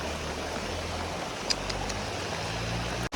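A mountain stream (nala) swollen by heavy rain rushes near Gandhinagar in Kullu, a steady, dense roar of water that stays loud and unbroken throughout, with no voices.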